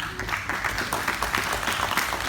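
A church conference congregation breaks into a round of applause during a sermon on discipleship, a steady dense wash of clapping that stays loud and even throughout.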